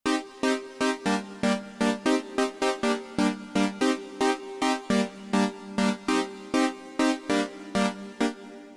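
A Korg minilogue xd synthesizer plays a steady step sequence of sustained chords, each note struck in an even rhythm with short gaps, bright and up close.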